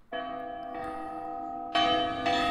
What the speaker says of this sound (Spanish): Ah, mira, esto puede ser para la campana, gente. Tócala.